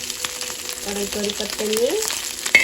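Curry leaves crackle and sizzle in hot oil in a home kitchen, a short, steady frying hiss with a faint voice and a small clink near the end.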